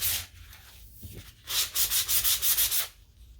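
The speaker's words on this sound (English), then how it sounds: "So I'm only going to sand on the very outside edge to bring back a little bit of the wood." Hand sanding on the wooden outside edge of a painted thrift-store furniture piece, a short scrub, then a pause, then a steady run of about eight rhythmic rasping back-and-forth strokes, close and clear.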